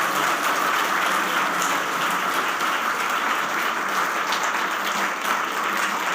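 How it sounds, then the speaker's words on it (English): Audience at an honoring ceremony applauding Dr. Mahipal Sachdev, a loud, dense and sustained round of clapping holding steady throughout without talk. "Once again, a huge round of applause for Dr. Mahipal Sachdev."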